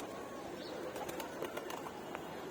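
Pigeons set loose from a rooftop loft on a sunny morning: scattered soft wing flaps and faint cooing over a steady outdoor hiss, several brief flutters in a row.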